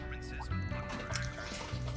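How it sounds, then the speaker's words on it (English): Water running into a container in Trails Through Daybreak, a soft steady trickle with faint drips, low in level under other game sounds. "Just the water is a little bit too loud."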